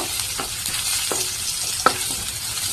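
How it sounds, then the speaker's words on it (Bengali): Garlic frying in a pan for a kochur loti dish: a close, continuous sizzle with several light spatula taps and scrapes at irregular intervals, one slightly louder than the rest. "রসুনের সেন্ট আসা পর্যন্ত আমি একটু ভেজে নেব।"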